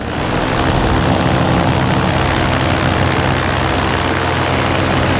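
A paramotor engine drives a powered paraglider in flight over a beach at Manistee, a loud, close, unbroken propeller drone with steady low hum and no talking.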